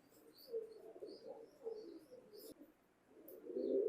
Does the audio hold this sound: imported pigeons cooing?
yes